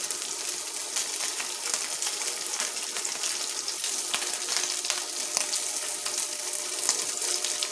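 Corned beef fries in a pan on an induction cooktop, pressed down to brown and crisp, giving a steady, close, dense sizzle with faint crackles throughout and no talking.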